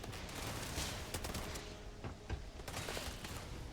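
Suppressed Allied AA-15 rifle firing in the Starfield video game, a steady dense run of muffled shots under continuous game ambience, with sharper reports standing out now and then.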